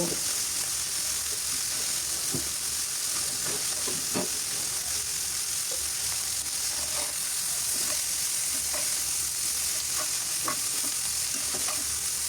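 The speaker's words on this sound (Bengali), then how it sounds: "এই তো মুরগিগুলো প্রায় ভাজা হয়ে গেছে" Chicken pieces fry and sizzle in a pan, a steady close hiss broken by scattered pops and the scrape of stirring. No talking.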